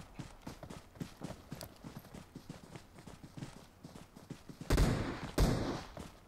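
Gunshots from a bot in the Metro Royale shooter game: a patter of light rhythmic clicks and steps, then two loud, close, booming shots near the end.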